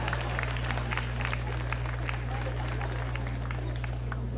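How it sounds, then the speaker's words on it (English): An audience at a City of Los Angeles African American Heritage Month event clapping, a continuous patter of many hands over a steady low hum, with some voices. "Now clap for yourself"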